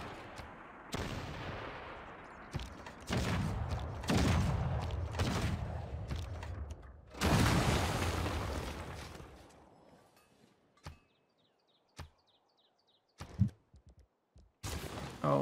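Gunfire from a battle in a strategy video game, loud volleys and booming shots in dense bursts for several seconds, then a quieter stretch broken by isolated sharp shots.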